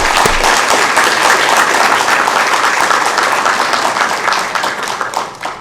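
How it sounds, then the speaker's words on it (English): Loud, sustained applause from a crowd at a Sacramento City Council meeting, dense clapping holding steady for several seconds before thinning slightly toward the end. "Big round of applause."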